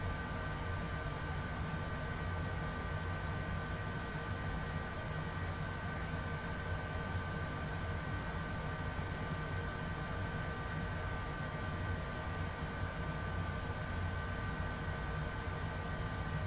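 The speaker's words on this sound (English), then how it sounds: "And we're here taxiing right along. This plane coasts along just fine." Longitude business jet taxiing in Flight Simulator 2020, a steady even engine whine and broadband rumble with a faint high tone, unchanging throughout and free of talk.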